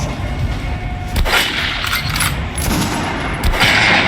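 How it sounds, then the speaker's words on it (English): Gunfire hits an armored training dummy in the video game Metro: Last Light Redux, with several sharp, loud shots and bursts over a steady background hum and no talking. "Now shoot the armored dummy."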